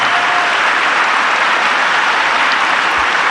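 A large rally crowd clapping loudly in a dense, continuous wash of applause with no distinct individual claps, steady from start to finish with no talking audible.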